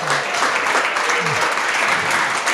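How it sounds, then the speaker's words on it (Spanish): A church congregation gives a brief burst of applause lasting a couple of seconds, loud and broad, with a hint of voice underneath. "No sé quiénes son los que aplauden"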